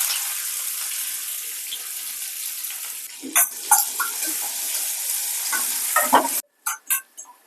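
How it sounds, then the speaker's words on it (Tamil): Steady hiss of shallots frying in hot oil with spoon scrapes and stirring clatter over it, a short pause near the end, then a few more stirs. "நம்ம நறுக்கு வச்சுட்டு சின்ன வெங்காயம் சேர்த்துக்கலாம்"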